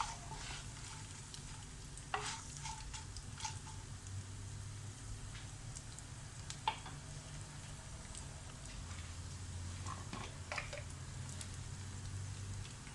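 Urad dal, three green chillies, peanuts and cashews fry in oil in a pan for lemon rice. A faint, steady sizzle runs throughout, broken now and then by light pops and scrapes of stirring, with no talk.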